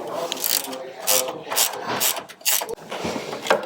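Ratchet wrench working a swollen, seized nut on the suspension turret of a Land Rover Defender 90, giving repeated metallic clicking bursts in short uneven spurts, close and fairly loud.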